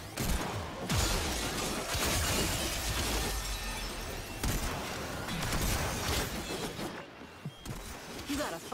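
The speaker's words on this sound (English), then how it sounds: "Time to smash some glass." Glass Cephalite crystals shattering in the game Warframe, repeated loud smashes and crashes with tinkling debris, following one another in close succession.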